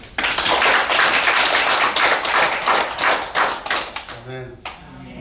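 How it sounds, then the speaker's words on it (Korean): A church congregation claps together at a dawn worship service, a dense, steady burst of hand-claps lasting about four seconds before it breaks off and a voice speaks. "하나님께 영광의 박수"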